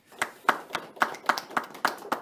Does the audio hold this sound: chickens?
no